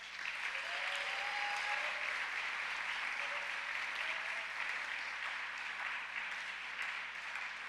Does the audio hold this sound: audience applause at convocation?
yes